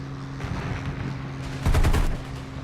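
Machine-gun strafing run from a P-40E-1 Kittyhawk fighter in the War Thunder flight game, a short loud burst of rapid gunfire near the end over a steady engine drone.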